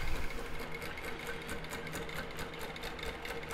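A longarm quilting machine stitches steadily in a fast, even mechanical rhythm, close and moderately loud, while basting a quilt with an all-over meander pattern.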